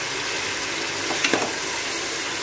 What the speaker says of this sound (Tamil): ஆனியன் இந்த அளவுக்கு வதக்கிடுச்சு